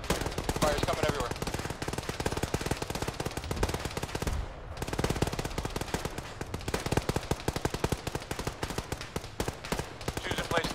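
Rapid machine gun bursts and scattered rifle shots in the military game ShackTac, sharp repeated cracks running almost nonstop with a brief lull midway, loud and close.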